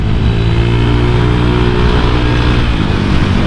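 A motorcycle engine with a CMS exhaust and a 63mm BRT bore kit roars close by with a deep, throbbing exhaust note, held at high revs without a break.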